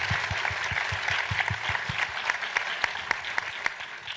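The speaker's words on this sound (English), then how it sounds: "can we please give him a round of applause?" Panel audience at an Emmy campaign event applauds the cinematographer Isaac Bauman, a short burst of brisk, crackling hand clapping that starts with a few distinct nearby claps and then thins out within a few seconds.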